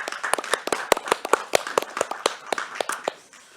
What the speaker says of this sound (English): big applause for Ivan